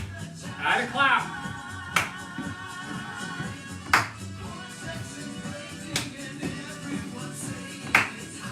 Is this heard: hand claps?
yes